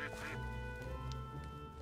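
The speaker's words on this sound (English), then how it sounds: "And here are our duckies." Brown ducks at a zoo quack repeatedly in short nasal calls, fairly close and clear over a steady low background hum, with no speech.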